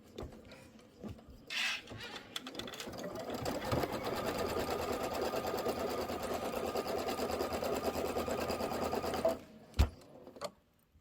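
A sewing machine quilts the inner borders and flange of a Kimberbell Sweet Land of Liberty pillow, running steadily at close range for several seconds before stopping, with a few light clicks and handling noises around it.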